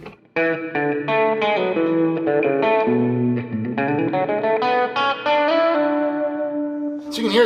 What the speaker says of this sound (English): So you can hear it's very hall-ish, it's very plate-ish